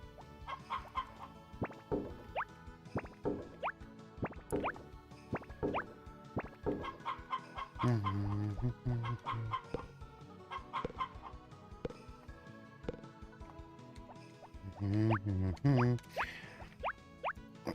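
Chickens cluck in the Harvest Moon Back To Nature farm video game, with repeated short synthesized clucks and bouncy game sound effects over a steady musical background, loud and close, with no talk.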